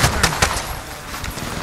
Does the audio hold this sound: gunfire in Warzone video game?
yes